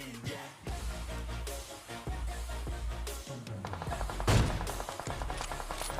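Rapid gunfire in a battle royale mobile game played on a Realme 6, with bursts of sharp shots, some thuds and a louder volley near the end, and no talking.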